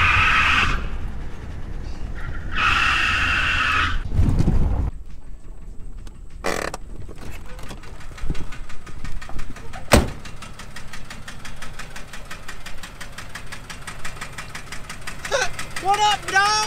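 An old car engine with a missing cylinder idles roughly, its uneven ticking pulse running through most of the stretch, while people talk loudly over it near the start.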